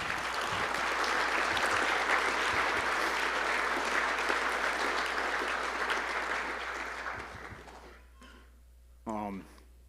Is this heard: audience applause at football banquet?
yes